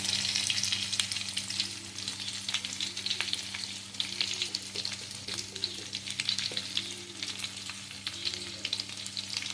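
Crushed garlic frying in a pan on slow-medium heat for dal tadka, a steady close sizzle with faint stirring scrapes recurring throughout, no voices.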